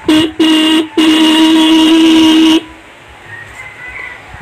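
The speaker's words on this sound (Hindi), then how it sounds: "यहाँ पे हॉर्न बजा रहा हूँ" A TVS Ntorq Race Edition scooter horn honks three times up close: two short beeps, then one long blast, followed by quiet background noise.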